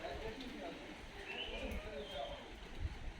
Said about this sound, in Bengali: নাম না জানা সব পাখিরা ডাকছে।